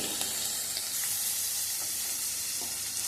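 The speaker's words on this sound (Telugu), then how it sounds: "ఆనియన్స్ వేసేస్తున్నాను కొంచెం మగ్గనివ్వాలి" Onions frying in a pan, a continuous soft sizzle and crackle at close range with faint stirring, alone without talk.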